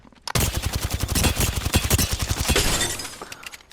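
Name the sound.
Volt SMG gunfire in Apex Legends video game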